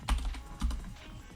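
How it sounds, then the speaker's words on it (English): Typing on a computer keyboard, a short run of close clicking keystrokes with a couple of heavier thumps, moderately loud, with no talk over it. "so now we're typing Claude here"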